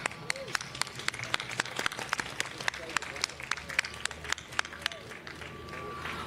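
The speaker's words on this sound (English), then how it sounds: "Please join me in another round of applause." Scattered clapping from an audience at the Motorsports Walk of Fame ceremony, a modest irregular patter of hands lasting several seconds at moderate distance, with speech mixed in.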